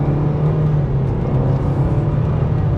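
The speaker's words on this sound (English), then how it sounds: "So setting off now in the Nissan Sentra." A Nissan Sentra SR sedan setting off at half throttle, a steady engine drone with a strong low hum, heard from inside the car, moderately loud and continuous with no speech.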